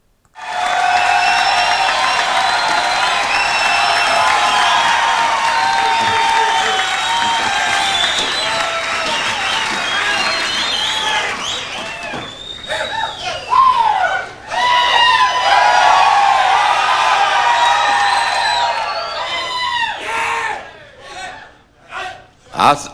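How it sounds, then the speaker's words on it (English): A large church congregation applauds and cheers loudly and continuously, with shouts and whoops rising over dense clapping before it breaks into scattered bursts and fades near the end. "a round of applause or something like that"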